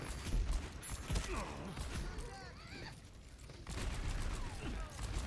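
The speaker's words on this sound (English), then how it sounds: "just laying bullets into that shield" Rapid gunfire from a match of the video game Overwatch, bullets pounding against a shield, rattling in dense bursts alongside clinking impacts, with talk over it throughout.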